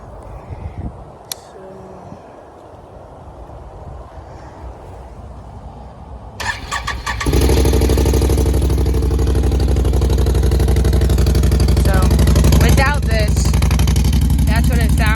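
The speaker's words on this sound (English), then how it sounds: "If you take out the drain bolt on the stock exhaust, it gives it a little more deeper tone" A Can-Am Outlander X-mr 570 ATV with the stock exhaust drain plug removed cranks over and catches, settling into a loud, steady, deep-toned idle after a quieter stretch where a voice talks.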